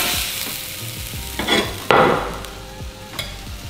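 Potato waffle burger patties fry in a pan, giving a close, continuous sizzle with a few louder bursts of spattering and stirring and soft tapping underneath.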